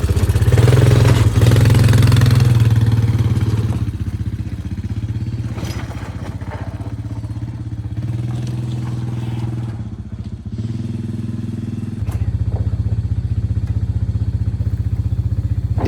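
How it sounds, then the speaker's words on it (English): An ATV engine runs near and loud for about sixteen seconds while hauling equipment from a delivery trailer at a greenhouse construction site, rumbling steadily with varying revs and occasional clatter and thumps. "I finished up moving a few of the final items with my ATV."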